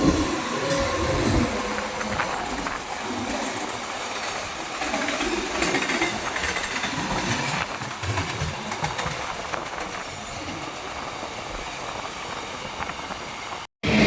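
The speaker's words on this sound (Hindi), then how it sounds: "अपनी गया अमृत भारत एक्सप्रेस काफ़ी बढ़िया रफ्तार में चल रही है" Amrit Bharat Express passenger train running fast on an Indian rail line, with a steady loud rumble and the clatter of wheels on track heard from inside the moving train, all the way through with no talk.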